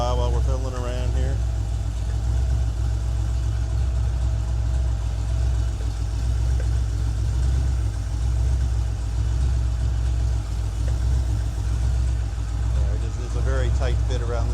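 A Ford 302 V8 engine idles steadily while warming up, a loud, even low rumble holding throughout, with people talking over it at the start and end.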